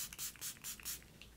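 Makeup setting spray spritzed from a pump bottle onto the body in several quick hissing bursts, close and fairly quiet, with no talking.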